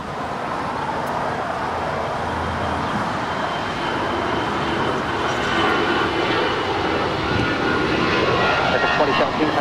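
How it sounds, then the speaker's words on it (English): Jet engine roar of an American Airlines Airbus A319, 21 years old, departing LAX, a broad steady rumble building gradually over nearby traffic, with people talking underneath. "That is American Airlines flight 2017 departing to Austin. It's a 21-year-old Airbus A319."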